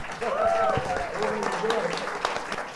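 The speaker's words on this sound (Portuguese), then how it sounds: "Um aplauso para Nelson." Applause from a crowd fills the clip, with a voice speaking over the steady clapping throughout.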